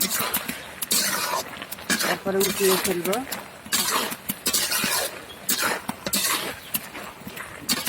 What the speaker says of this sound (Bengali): এখন দিয়ে দিলাম একটু ভাজা জিরার গুঁড়ো, দিয়ে নেড়ে চেড়ে নিয়ে